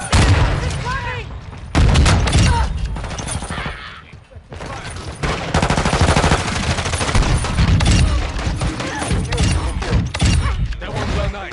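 Loud gunfire from the video game Call of Duty Modern Warfare 2, with rapid automatic bursts and heavy blasts packed close together, and shouted voices mixed into the near-constant shooting.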